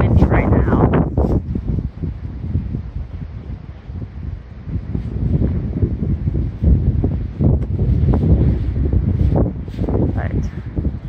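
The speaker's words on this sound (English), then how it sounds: "it's pretty windy right now" Gusty wind buffets the microphone in a low, rumbling roar that rises and falls beside a pond, with brief voices now and then underneath.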